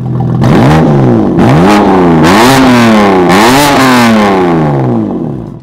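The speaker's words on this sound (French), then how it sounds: "Faut mettre le coup de gaz pour que du coup les échappements, ouais, pour que ça ouvre." A BMW M3 Competition engine revs hard several times with its exhaust valves open, each loud blip climbing and falling in pitch in quick succession, close and dominant.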